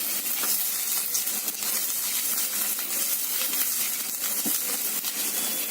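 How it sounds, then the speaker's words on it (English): Continuous crackling and hissing of onion frying in hot oil, with scattered pops throughout, steady and fairly close. "Isn't that sizzling noise amazing?"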